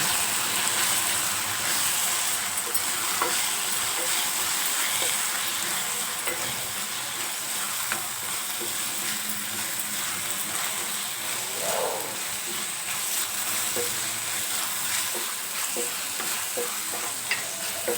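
Ground chili powder and spices frying in hot oil for tomato rice, stirred steadily with a spoon, giving a continuous close sizzle with occasional scraping clinks and no talk.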